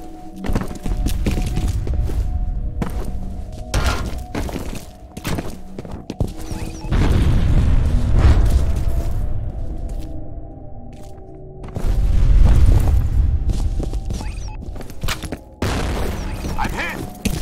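Grenade blasts in the F.E.A.R. Combat multiplayer shooter on a heliport map, with two heavy rumbling booms a few seconds apart over a steady bed of loud game noise, gunfire and radio-style voice chatter.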